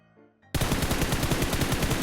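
Sustained automatic gunfire from an online multiplayer shooter game erupts abruptly after a brief quiet lead-in, a loud, dense stream of rapid shots continuing without pause.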